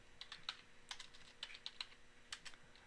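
Commands are typed on a computer keyboard while configuring network equipment remotely. Quiet, close-up clicks of individual keystrokes come in an irregular, uneven rhythm with short pauses between them, and no talking.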